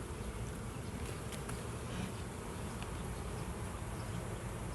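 Dense, continuous buzzing of many honeybees at an open hive during an inspection, close and steady throughout, with no voices.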